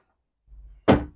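A refrigerator door on a Saxdor 270GT boat opens with a soft low rumble and then shuts in one sharp, close thunk.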